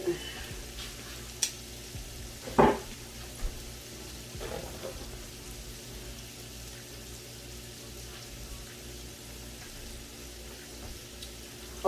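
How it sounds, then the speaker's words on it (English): Cabbage, shrimp and sausage sizzle quietly in a pan while a spoon stirs them, with a soft steady crackle under a few clinks and scrapes. "Okay, so we're just gonna stir this up"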